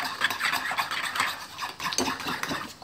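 A spoon stirs creamy shawarma sauce in a bowl, soft repeated scraping and swishing strokes, close and quiet, with no talking.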